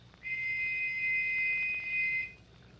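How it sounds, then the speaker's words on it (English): A brass whistle gives one steady shrill blast of about two seconds, loud and close, with a clean start and stop and no voices. "listen for another whistle like this one"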